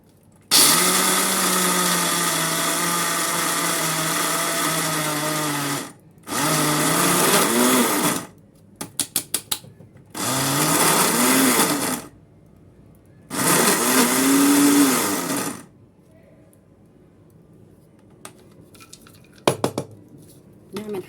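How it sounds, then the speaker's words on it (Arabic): A kitchen blender grinding roasted peanuts into peanut butter runs in four loud bursts of several seconds each, whirring with a shifting pitch, separated by pauses with light clinks and rattles. "هنحطها بقى ايه في الخلاط كده."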